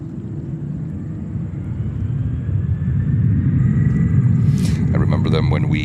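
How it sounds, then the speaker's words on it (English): A Delta Boeing 767-300 jet heading for Salt Lake City rumbles at New York JFK, a low roar building gradually, with talking over it and a brief clatter near the end. "That is Delta 767-300, flight 9963, a domestic flight to Salt Lake City in Utah."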